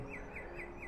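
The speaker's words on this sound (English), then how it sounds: "They got bird sounds." Ambient birdsong in the Lawn Mowing Simulator video game: a brief series of about four evenly spaced high chirps over a soft steady background.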